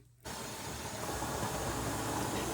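Steady hiss of steam from a pressure canner loaded with dried peas at 10 pounds of pressure starts abruptly and holds constant and close, with a faint rattle from the jiggling weight underneath.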